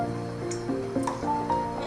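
Water is poured into flour, baking soda and salt for gol gappay dough, a close, gurgling, splashing trickle with small squishy bubbling sounds over a steady background hum.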